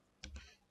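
The Enter key on a computer keyboard is pressed while entering a spreadsheet formula, giving two quick, soft, close clicks in an otherwise quiet room.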